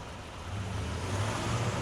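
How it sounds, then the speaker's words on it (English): A 2015 Acura RDX luxury SUV engine runs steadily at idle, a low, even hum that swells slightly partway through, with no talking. "the vehicle is running"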